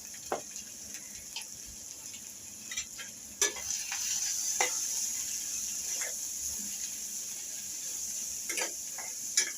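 Tomatoes and spices, including turmeric and red chilli powder, fry in a pan for paneer bhurji, a faint hiss of sizzling with repeated sharp clinks and scrapes of stirring spread across the clip.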